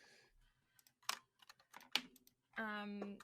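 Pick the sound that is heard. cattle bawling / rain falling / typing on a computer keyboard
typing on a computer keyboard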